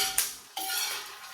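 Fried snack mix being stirred in a pan gives a couple of scraping metal clinks and rattles, close and moderately loud, with no voices.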